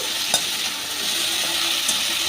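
Ridge gourd fries in hot oil, giving a loud, steady, close sizzle with a couple of brief clicks.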